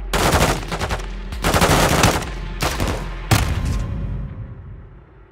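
Bursts of automatic gunfire from the video game Call of Duty: Modern Warfare II, four loud rapid volleys with short gaps, the last one trailing into a fading echo.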